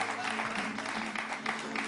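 A crowd claps for a performer named Menteur Ambulant at a live open-mic style event, giving dense, steady applause that fills the space with a faint murmur of voices underneath.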